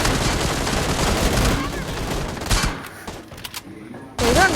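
Sustained bursts of automatic gunfire in the video game BGMI fill the first few seconds, then break into scattered single shots and quieter gaps, with a voice heard briefly.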